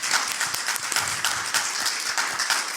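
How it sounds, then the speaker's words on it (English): Audience at a live comic convention panel applauding steadily, a dense wash of clapping with no voices over it. "Let's give them a round of applause for being great guests."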